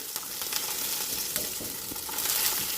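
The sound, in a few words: spices and garlic frying in oil in a pan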